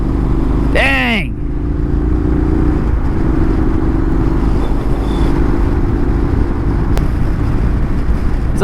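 A motorcycle cruises along a road with a continuous low engine drone and wind rumble, plus a brief high whistling tone near the start.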